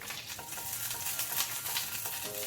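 Sole fillets sizzle and fry in a pan with a knob of butter and a drizzle of olive oil, cooked alongside scallops; a steady close crackle with occasional stirring or utensil clinks, no voices.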